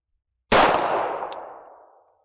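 A single loud, sharp .32 H&R Magnum revolver shot fired outdoors at a gel block, followed by a long, fading reverberating tail lasting over a second.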